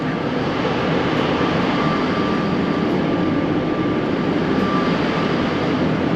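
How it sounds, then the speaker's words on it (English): Steady rumbling drone inside an airport train at Terminal 1 in Toronto, a constant loud low roar of rolling wheels and motors with a faint tonal hum and no voices. "now I'm on the right train in Terminal 1"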